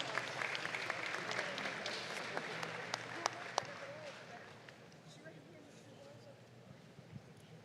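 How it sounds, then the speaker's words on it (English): Applause from a show-ring crowd at a youth state dairy cattle show honoring reserve champion cows, steady clapping across the clip that thins and fades toward the end, with some talk underneath. "Let's give them all a nice big round of applause."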